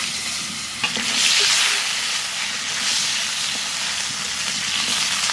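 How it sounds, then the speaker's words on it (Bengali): Potatoes and turturi frying in oil left over from frying fish, a steady close sizzle and hiss that swells briefly as they are stirred, with no one talking. "মাছ ভাজা তেলের মধ্যে আলু আর তুত্তুরি ভেজে নেব"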